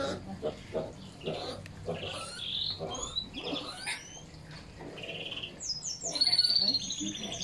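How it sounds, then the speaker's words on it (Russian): Piglets at a farm zoo give short soft grunts close by, with birds chirping and tweeting in the background and people speaking quietly at times. "Это пороси, да? Да, поросята."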